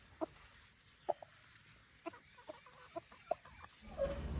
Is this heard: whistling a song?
no